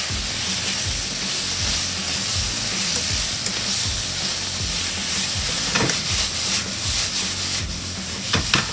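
Prawns and squid fry in a pan for creamy seafood pasta, a loud continuous sizzle with repeated scraping and knocking strokes as they are stirred, no talking.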